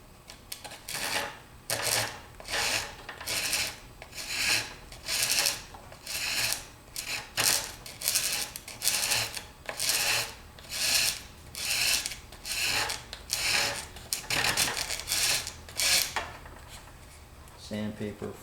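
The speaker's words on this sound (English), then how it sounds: "Sandpaper, file, whatever you have on hand to use." Wood cap strips on an aircraft wingtip bow being filed or sanded, with steady rhythmic rasping strokes, about a dozen back-and-forth passes close up.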